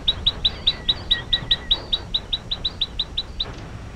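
A Taiwan bush robin gives a rapid series of about twenty sharp, high chirps in an even rhythm, clear and fairly close against a quiet outdoor background.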